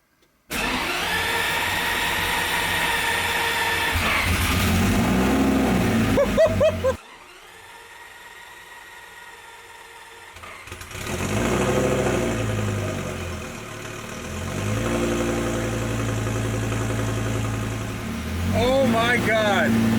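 A Lamborghini fitted with a DIY turbo kit cranks and fires up, then settles into a rough idle with a whirring, droning tone that dips briefly and rises again; loud and close, with people talking over it.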